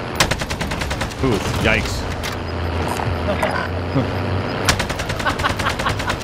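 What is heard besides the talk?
AK rifle gunfire in video game Warzone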